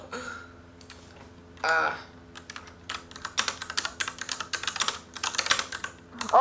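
Rapid typing on a computer keyboard, a close run of crisp uneven key clicks that grows busier toward the end, with faint voices in the background.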